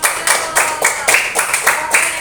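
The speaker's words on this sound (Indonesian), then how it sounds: "Kita tepuk tangan untuk kita semua" Students in a classroom clap together in a loud, rhythmic pattern, each burst of hands landing roughly a quarter second apart in a steady beat.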